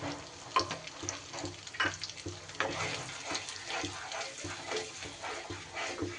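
Tap water running into a mixer grinder bowl as it is washed, a steady soft splashing with a few clinks of the bowl, fairly close and moderate in level.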